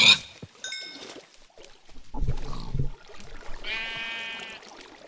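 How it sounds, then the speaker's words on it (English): Sheep bleating in the Minecraft video game, a few short wavering bleats with other game noises and a low rumble between them, ending in one longer, clearer bleat. "All those sheep are so cute."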